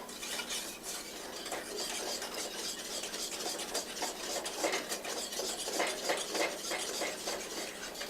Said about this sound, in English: And again, just keep stirring.